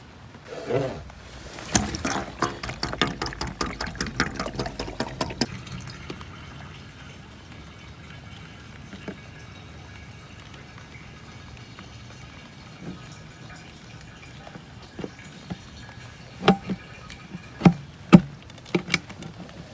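Antifreeze glugs and pours steadily into a boat's aft water tank for several seconds, then quiet follows with a few sharp knocks and clunks toward the end.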